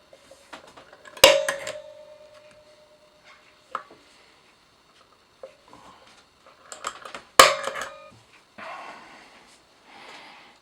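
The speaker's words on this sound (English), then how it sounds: "So, using the centre punch to mark the hole." A centre punch being struck to mark a hole on a guitar: two sharp metallic hits with brief ringing, several seconds apart, and quiet handling noises in between.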